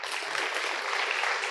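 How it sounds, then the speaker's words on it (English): Dense steady applause from an audience welcoming a panel of angel investors on stage, continuous and even. "Big round of applause"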